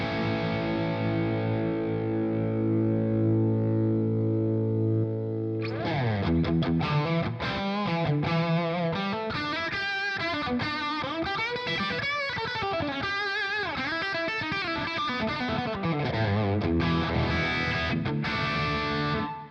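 Electric guitar through a Line 6 HX Stomp preamp into a Revv G20 amp: a long sustained distorted chord ringing out, then fast driven riffing with bends and chugging palm-muted notes, loud and continuous.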